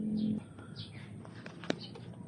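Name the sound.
birds cooing nearby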